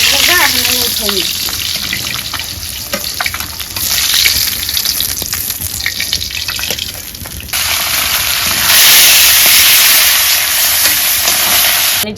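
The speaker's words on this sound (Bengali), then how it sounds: "হয়ে গেছে মাছ ভাজা, এখন আমি উঠাই নি।" Rohu fish frying in a pan, a loud, continuous close sizzle with clinks and scrapes of a utensil, with a later stretch where the hiss swells and a gushing, water-like rush joins in.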